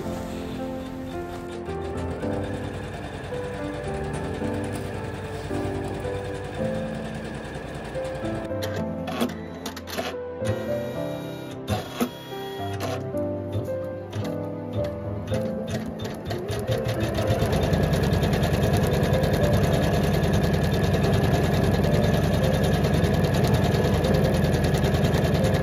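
An embroidery machine stitches fabric with a busy, rapid mechanical chatter and rhythmic ticking. The whirring grows denser and louder toward the end, close up and continuous, with no voices.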